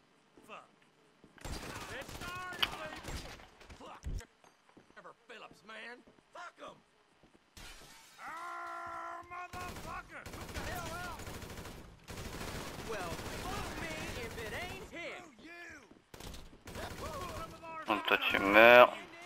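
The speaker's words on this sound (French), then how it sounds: "Mec, il tire à travers les murs." Gunfire in GTA V from a shooter firing through walls comes in sharp bursts and rapid volleys with shattering impacts, broken by pauses and someone talking between shots.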